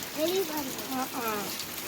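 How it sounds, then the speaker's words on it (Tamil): Rain falls as a steady, soft wash of hiss under a voice talking throughout, with no breaks in the patter. "மறுபடியும் மழை வந்துருச்சு"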